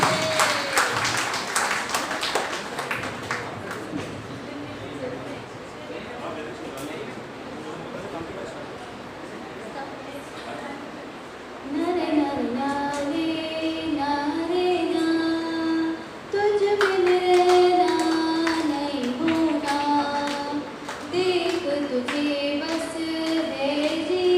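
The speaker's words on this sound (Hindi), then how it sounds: "तालियां प्लीज." An audience claps for a guest named Priyanka as she is called onto the stage at a teachers' day picnic program. A dense burst of applause comes first, then fades into music and voices.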